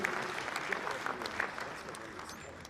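An audience at an elections-process conference in Freetown, Sierra Leone, applauds the chairman with a steady patter of clapping hands that fades slightly toward the end.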